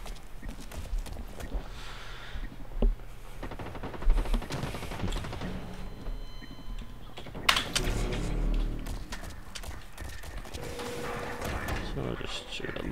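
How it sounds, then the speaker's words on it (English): Bursts of rapid automatic gunfire in the shooter game Blacklight: Retribution crackle at moderate loudness, scattered sharp reports mixed with clattering footsteps and someone talking intermittently over them. "So I'll just shoot a little bit on the game for a while."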